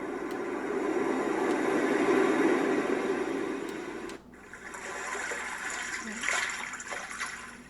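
Steady broadband wash of ocean-wave white noise from a portable sleep sound machine, a continuous hiss that drops briefly midway then resumes with a slightly brighter, surging texture.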